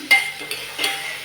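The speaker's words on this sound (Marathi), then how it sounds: "परत एकदा मिक्स करून घेऊया धने पावडर." Coriander powder being stirred into vegetables in a pan: three short scraping strokes of a spoon over a faint sizzle, close and quiet, with no talking.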